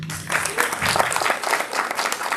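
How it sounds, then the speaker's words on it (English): An audience at a Boston city council at-large candidate forum gives a burst of steady clapping that lasts the whole short stretch. "give you all yourselves a round of applause for being here"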